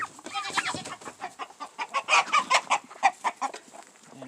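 Roosters and chickens cluck at a farm coop in a quick, rhythmic string of clucks that builds in loudness and then tapers off, close by and with no talking.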